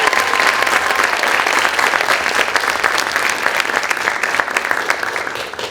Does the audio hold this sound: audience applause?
yes